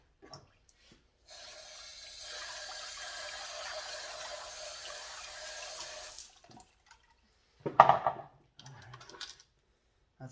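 Rocks washed in water after tumbling in a Lortone QT12 tumbler, a steady rushing stream running for several seconds, then a brief louder clatter and splash of stones near the end.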